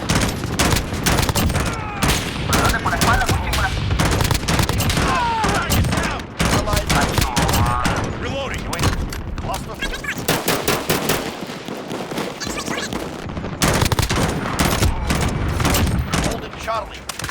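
Rapid bursts of M16 gunfire in Call of Duty: Modern Warfare, repeated shot clusters crackling amid dense in-game battle noise, explosions and radio chatter, loud and continuous.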